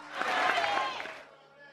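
Audience applause at a live comedy show, a dense burst of clapping that swells briefly and then fades out within about a second, with voices mixed into the crowd noise.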